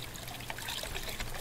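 A bathroom sink faucet in The Crooked Man horror video game runs steadily, a continuous trickling pour of water heard alone at moderate level.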